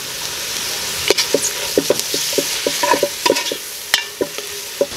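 Kangkong mix with oyster sauce is sautéed in a pan, with a steady sizzle under a series of sharp spatula clacks and scrapes at an uneven, busy rhythm, close up and with no talking.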